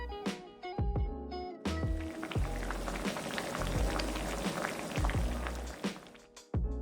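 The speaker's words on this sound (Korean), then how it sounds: "느타리 넣고 중불로 끓여줬다. 끓어오르면 잘 저어주고 대파 넣고 중약불로 10분 끓여서" Bracken soup with oyster mushrooms and green onion bubbles in a pot over medium heat, giving soft, irregular plops and blips with a few sharper pops and clinks.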